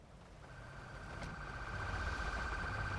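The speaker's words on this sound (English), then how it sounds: "there's a cop with his lights and sirens on" Police car siren in the video game GTA 5, a steady electronic wail that grows louder over a low engine and traffic rumble, with no talk.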